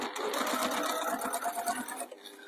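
A domestic sewing machine runs a short burst of stitches in reverse to reinforce a cushion corner, a close, rapid mechanical whir with a fast needle rhythm that stops abruptly near the end.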